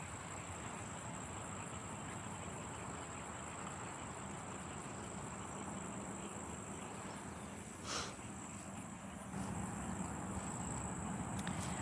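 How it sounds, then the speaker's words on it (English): A dense chorus of frogs croaking at night, a steady, continuous wall of calls that stays loud and unbroken throughout, with no talking. "Can you hear all the frogs going crazy?"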